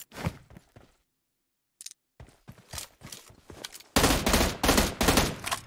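An M16 rifle fires in a video game, with short sharp bursts and scattered shots at first, then a gap, then loud rapid volleys of automatic fire toward the end.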